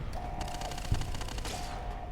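Gunfire rattles in rapid succession during a chaotic firefight in Fallout: New Vegas. A dense stream of shots runs over a steady tonal hum, with one sharper, louder crack near the middle.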